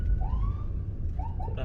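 Police escort patrol car siren wailing from behind on a city road, rising and falling tones that sweep up, pause, then return in shorter yelps, heard over a constant low rumble of traffic.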